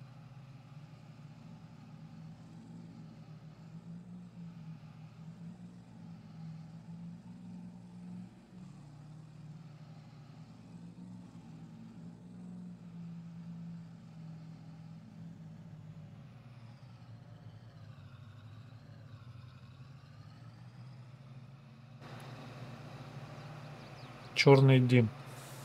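A petrol engine of a vehicle in the Farming Simulator video game drones at a low, steady idle throughout, with someone talking over it and a brief loud burst near the end.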